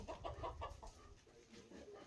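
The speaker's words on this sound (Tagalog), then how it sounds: "Manok siguro." A chicken clucking in a Filipino household setting, a few soft, rapid clucks in a short burst, faint and somewhat distant, then a quieter fading murmur.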